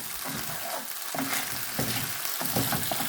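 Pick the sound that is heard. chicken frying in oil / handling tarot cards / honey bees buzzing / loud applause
chicken frying in oil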